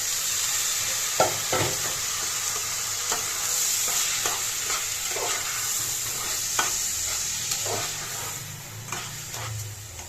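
Spiced soaked rice for pulao being sautéed in a pot, with a constant close sizzle and frequent scraping stir strokes across ten seconds, no voices.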